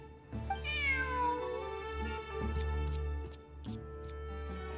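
A cat meows in the Genshin Impact video game, one long rising then falling call, followed by a few faint clicks and ticks over a steady game music bed.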